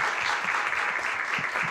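Steady applause from an audience welcoming two guests onto a stage, a dense even wash of clapping that stays loud and unbroken throughout, with no talk over it.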